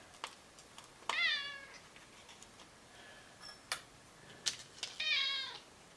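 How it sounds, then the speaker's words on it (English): A house cat meows twice indoors during electronics work on a toy drone, each call a short rising-falling cry, with light clicks and taps from handling screws and a board in between. "And you know the cat has to come and start meowing right about now."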